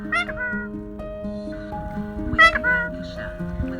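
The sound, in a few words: cat meowing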